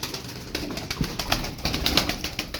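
Pigeons coo in soft, repeated bursts at close range, with occasional flutters and light rustling between calls, no talking.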